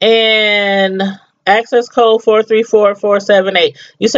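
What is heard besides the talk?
No distinct noise like a dog, phone or traffic.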